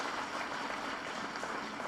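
Loud, dense applause from an audience at an official ceremony for power-project agreements, a continuous wash of clapping close by with no breaks.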